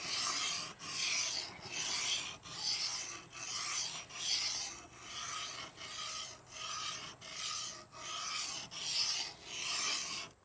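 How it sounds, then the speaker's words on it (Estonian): A kitchen knife drawn repeatedly across sharpening stones, giving about a dozen evenly spaced rasping strokes, close and fairly quiet, with no talking. "Nüüd sai siis see nugaga lõpuks ära hoonitud, ehk siis üsna niimoodi mõnusalt ära lihvitud."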